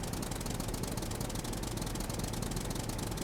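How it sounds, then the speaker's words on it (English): A tractor engine in SCUM runs with a steady, loud, rattling knock that stays even and unbroken throughout. "I can barely hear a thing over this fucking tractor."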